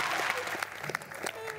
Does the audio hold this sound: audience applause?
yes